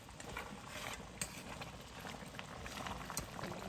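Mutton brown stew with butter added simmers and bubbles in a pot, a faint, steady crackling and popping with occasional small clinks.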